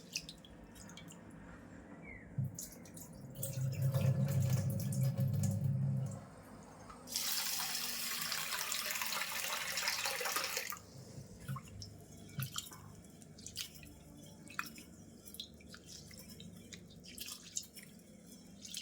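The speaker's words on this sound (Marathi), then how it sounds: "स्वच्छ 2-3 पाण्याने धुवून आम्ही नितळत ठेवणार आहे चाळणीमध्ये" Rice is rinsed two or three times in water before draining in a sieve: close dripping and sloshing, a steady stretch of running water in the middle, then light splashes and drips.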